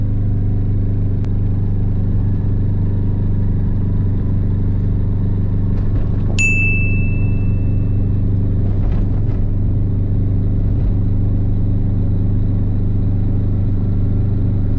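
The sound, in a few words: AIXAM GTI microcar accelerating in a launch control start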